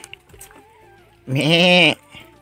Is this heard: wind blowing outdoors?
no